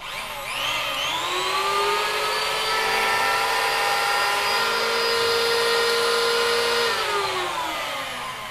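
A Makita 100 V, 480 W electric chainsaw on a 3 m cord spins up, holds a loud steady whine for several seconds, then winds down, with no talking.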